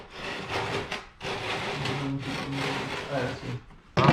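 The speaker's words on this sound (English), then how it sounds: "just take a Dremel and cut that off" A Dremel grinding off a metal bracket behind the engine of an 8th-gen Honda Civic: continuous close, harsh rasping whine in long bursts with brief dips between passes, ending in a sharp louder contact.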